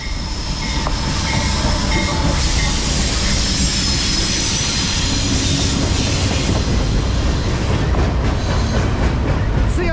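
CSX freight train 319 rolls past close by with a loud, continuous rumble of wheels and cars and some faint squealing on the rails. No other sound competes with it.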